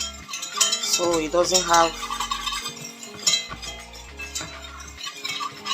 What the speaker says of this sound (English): And I'm going to whisk so fast